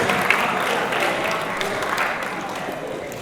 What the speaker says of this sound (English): Give a round of applause for our presentation today